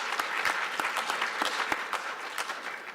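An audience at a summit applauds, a dense burst of hand claps at close range, steady and loud for a few seconds with no talking over it.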